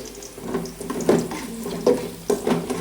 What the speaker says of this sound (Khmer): យើងចាក់ទឹកចូល